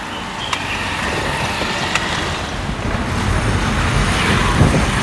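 Wind rushes in through an open car window, a loud continuous roar that builds slightly toward the end, with a few faint clicks.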